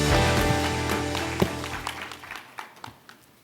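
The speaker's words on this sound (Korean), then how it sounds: "큰 박수로 모시겠습니다." An audience at the opening ceremony of the 11th ASEAN Connectivity Forum applauds to welcome the keynote speaker, a dense wash of clapping that starts loud and thins into scattered claps as it fades.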